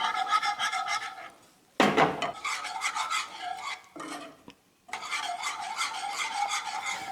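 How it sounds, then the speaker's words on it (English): A spoon scrapes and rasps through princess cake custard mixture thickening in a pot, a steady close stirring texture with a brief sharp clatter and two short pauses. "You just wanna mix it until it thicken up, basically."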